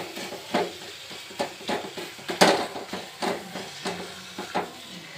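Potato curry with spices is stir-fried in a pan, giving a soft sizzle under repeated scraping and clattering strokes that come every half second or so, with one sharper knock in the middle.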